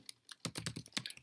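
Quick keystrokes clatter on a computer keyboard, a short burst of close, crisp taps in an irregular typing rhythm, alone and fairly quiet.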